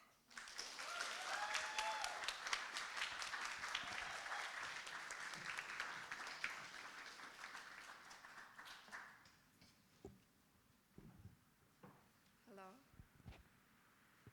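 Crowd applause at a poetry slam, a full dense burst of clapping that fades over about nine seconds into sparse scattered claps and quiet room noise, with a few low voice sounds near the end.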